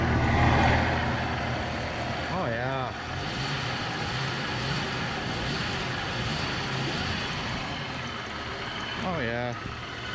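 A 1998 Jeep Cherokee XJ engine idles steadily and near throughout, a smooth running hum now free of clanking or knocking, with a slight exhaust leak; a person speaks briefly over it.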